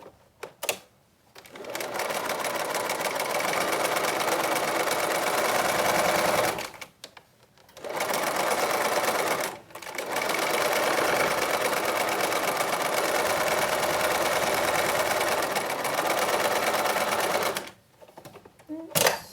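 A sewing machine stitches fabric for a face mask, running in several long, steady whirring bursts separated by short pauses, close and loud.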